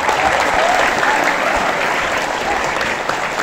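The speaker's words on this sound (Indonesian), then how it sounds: "Tepuk tangan santri baru." A crowd at an Islamic boarding school welcoming new students claps steadily and densely for a few seconds, a continuous wash of applause with no voices standing out.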